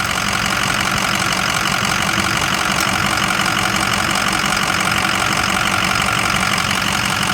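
A 2005 Ford F250 engine runs steadily close to the microphone, a loud, even idle with a constant mechanical clatter and no change in pace, with no voices.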